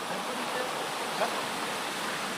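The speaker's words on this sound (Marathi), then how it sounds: "इकडून मित्रांनो पाणी येतं आहे आणि हे पाणी इथून खाली जातं" Water runs down a small channel in a steady, even rush that holds through without a break, fairly close and with no voices.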